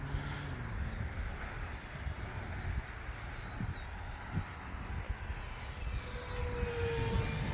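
An Eflite Cirrus SR22T RC model plane flies at full throttle, a faint, distant electric whine over steady outdoor wind rumble.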